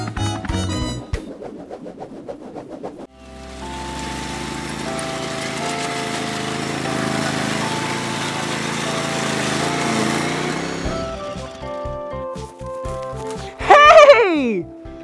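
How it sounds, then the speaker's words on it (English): A lawn mower engine runs with a steady mid-pitched drone for several seconds between stretches of upbeat music and a lively voice, then fades out under more music. "Yeah, it's a lawnmower!"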